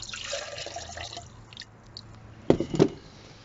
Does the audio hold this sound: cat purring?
no